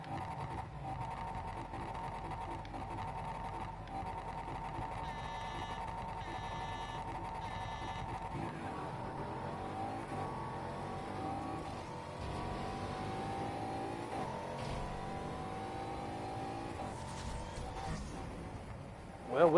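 A car in the Need for Speed Heat racing game accelerates on nitrous, its engine tone climbing steadily in a rising sweep over a constant layer of game sound.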